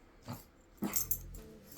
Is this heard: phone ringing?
no